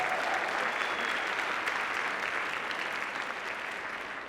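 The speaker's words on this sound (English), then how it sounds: "Please give Keoka another big round of applause" A crowd applauds a local safety leader at a borough address, with dense, steady clapping filling the room that fades slightly toward the end.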